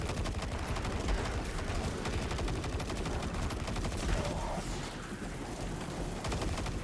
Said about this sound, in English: It looks like the it looks like the rockets being shot out are automatic.